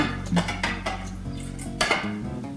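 A spoon clinks and scrapes against a cup while stirring Sambuca into coffee, several close, bright rings in an uneven rhythm, with no speech.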